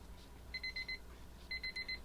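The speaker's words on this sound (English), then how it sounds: "Alright, there's my timer." A kitchen timer alarm goes off while silicone mold mix is being stirred, sounding two bursts of four quick electronic beeps separated by a short pause, moderately loud over a quiet room.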